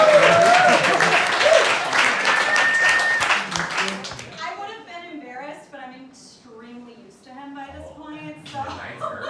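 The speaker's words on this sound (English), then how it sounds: "Give them a big round of applause." Audience applause at a comedy show, a loud crowd of clapping and whistles for about four seconds that dies away as people start talking.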